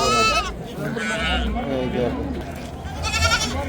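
Young goats and sheep bleat at a busy livestock market, several short wavering cries near and loud, mixed with people talking and bargaining around them.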